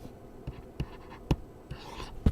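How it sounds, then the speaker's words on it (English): A pencil scratches across paper in a quiet room, a few faint, separate strokes and taps heard up close. "I'm going to have you draw a line across your paper right there."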